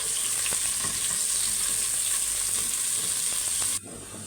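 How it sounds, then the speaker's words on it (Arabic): Julienned onions sizzle and fry in hot oil in a pan, a steady close crackling hiss with occasional faint pops that drops off sharply near the end. "وهنزل عليهم بالبصل الجوليان اللي انا مقطعاه اهو"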